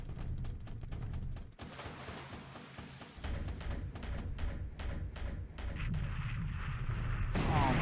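Explosions and artillery-style blasts in a WWII Pacific strategy video game, fired in a rapid series of sharp booms and thuds that overlap into a continuous rumbling barrage.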